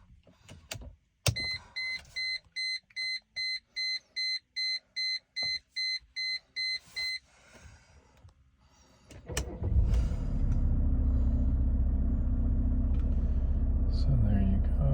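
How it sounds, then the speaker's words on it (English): Power windows on a Mercedes E300 whir up and down in about a dozen short even bursts, close and clear, with a chime before them, then the engine starts and settles into a steady rumble. "I'll demo the windows, show you that they all work, up and down"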